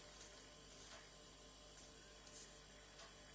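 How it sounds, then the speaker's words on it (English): A household refrigerator's compressor runs quietly, a faint steady hum with a low buzzing drone and soft intermittent ticking, heard alone in a quiet room. "This is a very typical sound of the compressor working on a fridge."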